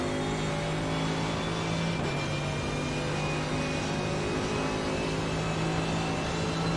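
A car engine in a racing simulator drones steadily under light throttle, a constant faint hum with a slight shift in pitch partway through and no voices.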